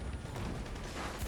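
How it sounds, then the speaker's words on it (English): Rocket launcher blast in Uncharted: Drake's Fortune, a dense, loud, sustained burst of low rumble and broadband noise filling the whole short moment. "Rocket launcher."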